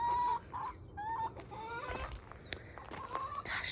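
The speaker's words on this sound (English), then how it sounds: "Got some very noisy chickies this morning." Backyard garden chickens clucking and squawking in a noisy morning chorus, several birds calling in quick irregular bursts at moderate distance, with no talk.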